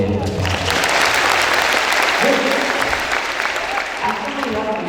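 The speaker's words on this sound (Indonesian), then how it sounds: "tepuk tangan buat dua yang baca" Audience at a motivational seminar in Gontor applauding two readers, a dense, steady burst of clapping filling the room throughout, with a voice briefly heard over it.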